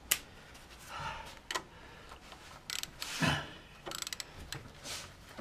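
Wrench work on a bolt in a 1991 Toyota Celica GT engine bay: a few sharp metallic ratcheting clicks and clanks spread across several seconds, close and moderately quiet, with no talking.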